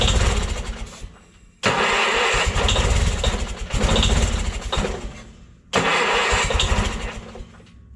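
A Bolens QT16 lawn tractor, idle for ten-plus years, cranks and fires in three bursts, each loud engine roar surging under a touch of throttle before cutting off abruptly into brief quiet gaps.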